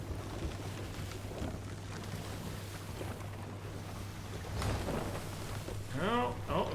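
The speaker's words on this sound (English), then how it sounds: "Oh, and we got good wind." Steady wind rushes over open water around a sailing ship in the Sea of Thieves video game, a continuous broadband wash with a low hum beneath, swelling slightly near the end as a voice speaks briefly.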